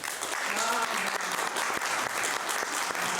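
Applause from a conference audience during a plenary session of an international ethnomathematics conference, a steady dense patter of many hands clapping close and loud throughout, with no talk over it.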